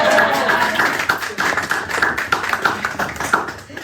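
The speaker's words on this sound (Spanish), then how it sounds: "Ahí la parte donde ustedes pueden aplaudir." Audience clapping at a literary gathering, a steady patter of many hands that holds at moderate loudness throughout with no voices over it.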